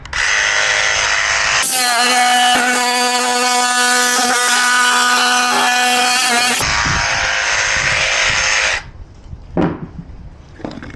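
A power drill whines steadily starting a hole in bathroom subfloor, then a louder, higher-pitched jigsaw screams for several seconds cutting it before dropping back and stopping, followed by scattered knocks.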